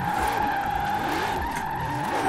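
A 2020 Ford Shelby GT500 drifting in Forza Horizon 4 on a mountain road, its engine holding a steady loud drone with tyre squeal and skidding running continuously underneath.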